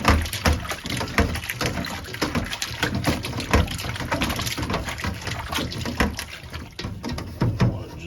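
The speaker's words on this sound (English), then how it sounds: "Pour some vinegar all over that" Vinegar poured over raw cut pork in a bowl and worked in by hand, a steady liquid splashing and sloshing with wet squelches and occasional knocks, close and fairly loud throughout.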